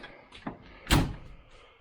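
A 1971 Triumph Stag door being shut in a workshop: a light knock, then one solid, close slam with a brief ringing decay.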